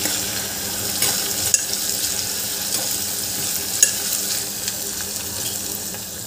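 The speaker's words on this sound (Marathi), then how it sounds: "आता यामध्ये आपल्याला आलं लसूण याची पेस्ट घालून घ्यायची आहे आणि ही पेस्टसुद्धा 1-2 मिनटं परतून घ्यायची आहे" Ginger garlic paste sautéing in hot oil for masale bhat, a continuous close hiss and sizzle with occasional stirring scrapes and small clinks of the spoon, steady throughout with no talking.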